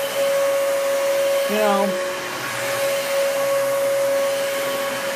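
Hoover WindTunnel 2 Rewind Pet vacuum cleaner running with a loud, steady motor roar and a constant high whine, while someone talks briefly over it.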